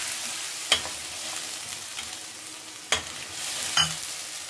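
Ground ginger, garlic and onion paste hits hot oil in a pan while cooking masoor dal curry, giving a soft, steady sizzle broken by a few sharp stirring clinks and scrapes, with no voices.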